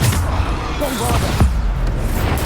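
Bombarda blasting spell going off in Hogwarts Legacy combat, a dense rumbling burst with a sharp low thump, loud and close amid constant battle noise and a spoken incantation.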